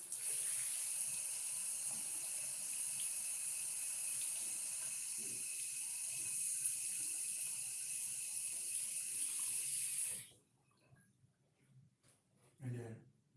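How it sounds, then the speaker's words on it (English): Running tap water rinsing a Gillette Atra Plus razor, a steady, close hissing stream for about ten seconds that cuts off abruptly, followed by faint handling clicks and a soft knock. "let's do a quick rinse and clean up"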